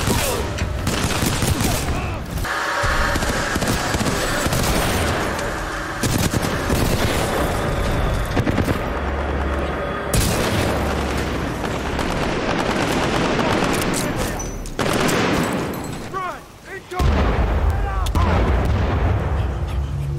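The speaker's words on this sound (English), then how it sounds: "Fucking grenade, throwing grenade down there." Titanfall 2 campaign combat on master mode: dense bursts of automatic gunfire mix with heavy grenade blasts and booms, loud and nearly continuous with brief lulls between volleys.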